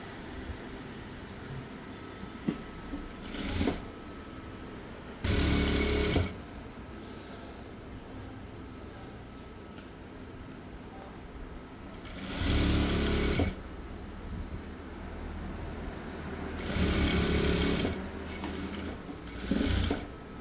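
A sewing machine stitches a blouse sleeve lining in several loud whirring bursts of a second or so each. Quieter pauses and small handling noises fall between the bursts.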